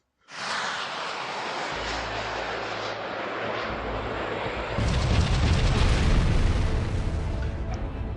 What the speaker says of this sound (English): Her engines roared to life, lurching the ship forward.